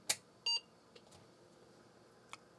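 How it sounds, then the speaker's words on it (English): An Apple II+ clone computer powering on: a faint click, then a short electronic beep, followed by a few quiet clicks and ticks in a near-silent room. "the system actually has a beep. It sounds like the normal Apple II beep."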